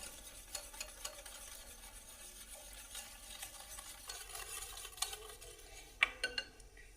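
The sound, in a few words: mixing coconut milk and mango pulp batter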